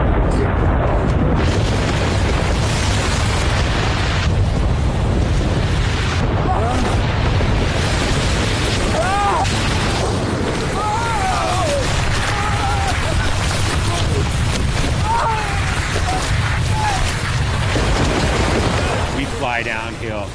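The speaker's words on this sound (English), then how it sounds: "It was a sickening, cracking rumble" A continuous, loud, dense roar and rumble of an avalanche in Alaska fills the whole stretch, heavy and unbroken, with voices speaking faintly beneath and through it.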